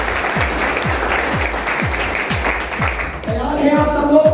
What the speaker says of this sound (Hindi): मैं चाहूंगा एक जोरदार तालियां